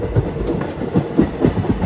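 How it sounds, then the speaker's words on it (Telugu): The Hyderabad Deccan to Purna Express (17647) runs along the rails near Sadashivpet, with a loud, rhythmic clickety-clack of wheels over rail joints and a steady rumble heard from inside the train, with no talking. "సదాశివపేట నుంచి కూడా మన ట్రైన్ అయితే స్టార్ట్ అయిపోయింది"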